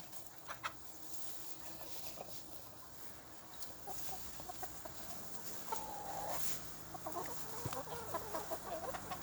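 Chickens clucking inside a coop on a farm, faint scattered clucks and short calls over a low steady background, with no voices.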